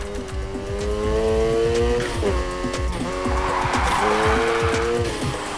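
Race cars in Need For Speed Heat roar and rev hard while drifting, with engine tones rising and dropping between gear shifts and tires squealing loudly through the slides.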